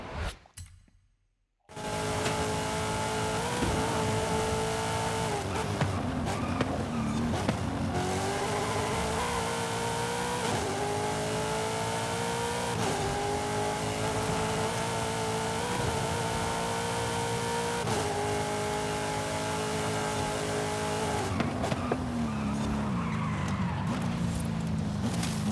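A car in the Forza Horizon 5 video game drives hard with a loud continuous engine note that rises and falls through gear changes, with tire squeal over the top throughout.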